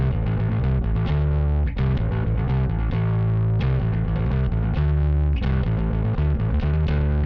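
A bass guitar through an MXR ten-band EQ pedal set flat plays a continuous, thick metal groove with a dense, slightly gritty tone and steady notes from start to finish.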